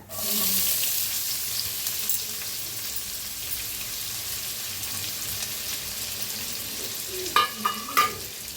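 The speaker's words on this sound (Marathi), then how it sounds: "छान असं भाजून घ्यायचं कांद्याला" Finely chopped onion with cumin seeds and cinnamon fries in oil in a pan for egg curry, a loud burst of sizzle as it goes in settling into a steady close hiss, with a few sharp spatula scrapes near the end.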